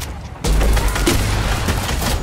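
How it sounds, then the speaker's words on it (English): A grenade launcher fired in a video game, a sudden loud booming blast that cuts in after a quiet moment and rolls on in a heavy rumbling burst of explosive noise, with no speech over it. "This is literally like a grenade launcher."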